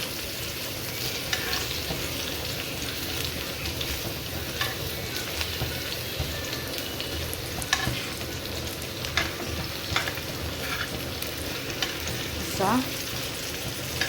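Stuffed okra, capsicum and bitter gourd cooking in a pan over low gas, a steady close sizzle throughout, punctuated by occasional scrapes and stirring taps.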